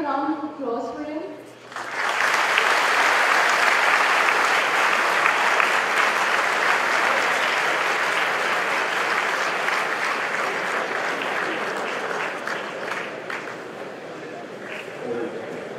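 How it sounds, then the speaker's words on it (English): An audience claps warmly after a physics lecture by Professor Walter Lewin, sustained dense applause swelling in after a brief spoken line and holding steady for many seconds before slowly thinning. "Please join me in a round of applause for him."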